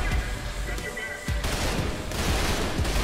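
A FAMAS-like rifle fires in Trepang 2, with rapid, loud, close bursts of automatic shots continuing through the clip over a dense layer of game noise.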